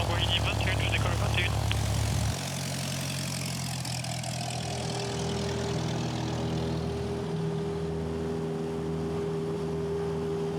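Droning engine of a small propeller plane taking off, loud at first and then settling to a steadier hum as the plane moves off; a voice speaks briefly near the start.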